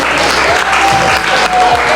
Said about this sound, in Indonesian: Boleh kasih tepuk tangan sekali lagi.